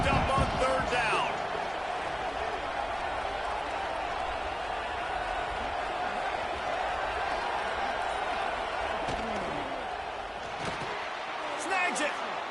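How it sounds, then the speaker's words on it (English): A football stadium crowd roars steadily on a third down during a college game, a dense, continuous wash of cheering and noise, with a commentator talking over it. "Crowd getting this defense whipped up on third down."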